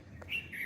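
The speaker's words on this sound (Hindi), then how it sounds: "चिड़ियाँ बोल रही हैं" Birds chirping outdoors during an evening walk, a couple of short high chirps within a brief, faint moment, no talk.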